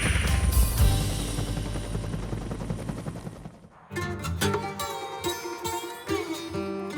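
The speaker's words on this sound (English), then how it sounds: "This helicopter burns so much fuel." A legendary American chopper thunders overhead with a dense, continuous rotor chop and engine roar, loud and close, then the sound cuts to a different rumbling scene partway through.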